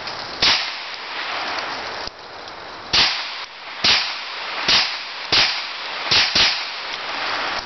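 Gunshots from a Hi Point 995TS carbine fired at bottles outdoors, about eight sharp cracks at irregular intervals over steady wind-like background noise.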